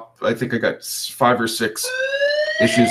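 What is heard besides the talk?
fire alarm going off during apartment building fire testing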